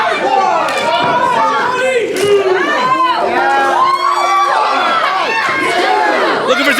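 Crowd at an indie wrestling street fight yelling and cheering, many voices shouting and whooping together in a loud continuous roar with rising calls.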